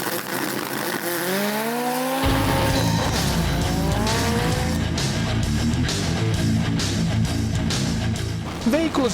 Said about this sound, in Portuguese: Veículos de passeio são transformados em carros de corrida para as provas de arrancada